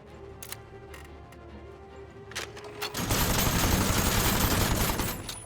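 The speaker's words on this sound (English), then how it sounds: "this is gonna shoot a Gatling gun" Gatling gun in the Aether & Iron game opens up in a dense, loud rattling burst partway through, after a few scattered clicks and taps, sustained rapid fire to the end.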